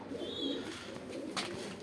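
A smoky-colored breeding pigeon coos softly once or twice nearby, a low murmuring call against a quiet background.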